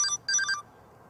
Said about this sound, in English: his phone was still ringing off the hook